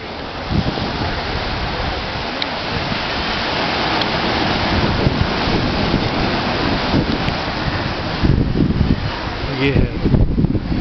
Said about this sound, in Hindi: ये है मुंबई शहर का खूबसूरत सा समुद्री किनारा